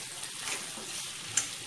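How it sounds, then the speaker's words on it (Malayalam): Koorka (Chinese potato) stir-fry stirred in a pan, giving a soft, close sizzle with light scraping, plus one brief clink near the end. "10 മിനിറ്റിന് ശേഷം നമുക്കിത് തുറന്നിട്ട് മിക്സ് ചെയ്ത് കൊടുക്കാം"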